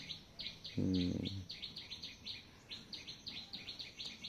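Soft, high, rapid chirps from two-day-old tailorbird chicks repeat in quick bursts, faint and close, with a short low buzzing hum partway through.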